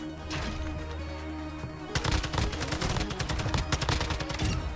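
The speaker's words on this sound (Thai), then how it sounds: "มีคนยิงผม" Gunfire in the video game Warzone 2: a low ambient hum gives way to a loud, dense burst of rapid automatic shots and echoing bangs that keeps rattling on without talk.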